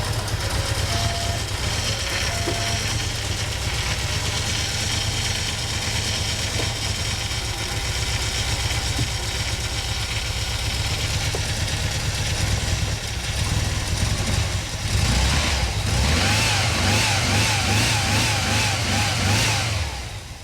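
A 1988 VW Vanagon engine with a troubled pump, running steadily at idle and then revving up near the end, loud and close, with no talking.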